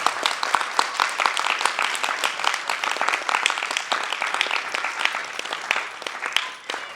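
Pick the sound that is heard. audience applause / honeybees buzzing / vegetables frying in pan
audience applause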